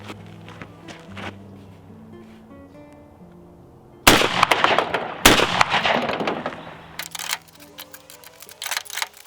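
Shotgun firing a reloaded Remington STS shell outdoors, a single sharp loud blast with trailing echo, then further sharp reports and handling clatter.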